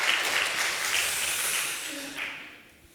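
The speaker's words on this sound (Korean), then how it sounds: "우리 박수 한번" A church congregation applauds its choir during a Sunday service, a soft, steady wash of clapping from across the room that slowly fades out.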